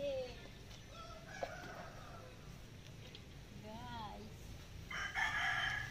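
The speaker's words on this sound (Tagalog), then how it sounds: "may alaga din ako manok dun" A rooster crows a couple of times at a moderate distance in a rural provincial yard, its calls set against quiet background noise, with a person speaking briefly.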